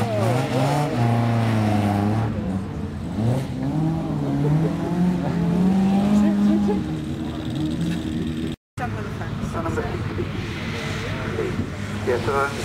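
A race car fitted with a 16-valve Vauxhall engine runs at Mallory Park, its engine droning and rising steadily through the gears, loud and continuous throughout, with a circuit commentator talking over it.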